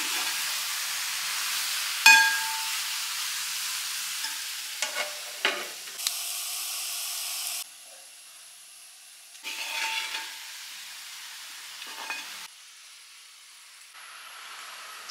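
Pepper chicken cooking covered in a pan, with a steady sizzle and steamy hiss broken by a few sharp clinks and scrapes, the level dropping and swelling as the lid comes off and goes back on.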